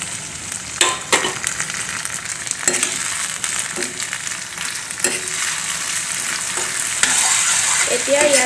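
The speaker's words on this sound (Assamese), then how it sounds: "এতিয়া মই ইয়াতে পিচি ৰখা মছলাখিনি দি দিছোঁ।" Ground spice paste sizzles in hot oil with onions in a home kitchen pan, with steady frying hiss and intermittent stirring scrapes throughout, no talk.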